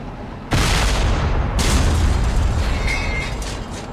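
A single loud cannon boom bursts out in a video game, followed by a second blast and a long rumbling decay.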